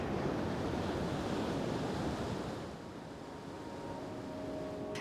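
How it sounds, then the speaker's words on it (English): Ocean waves wash against the shore in a soft, continuous surf roar with faint wind noise, easing slightly midway and then swelling again, with no voices. "I'd still watch the waves crashing"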